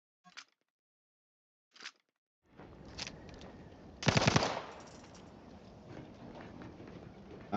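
Gun firing in The Outer Worlds 2, heard as two short isolated pops, then a loud burst of shots after a stretch of game ambience, with steady background noise continuing afterward.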